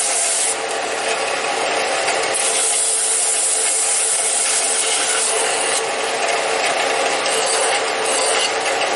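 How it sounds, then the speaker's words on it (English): A power sander working the wooden parts of a child's rocker built from scrap, a steady loud abrasive whir with rubbing grit noise and no voices. "I'm going to take that out on my sander"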